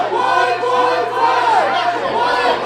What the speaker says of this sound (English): The crowd asking for one more time, and Johnny Poke willing to oblige.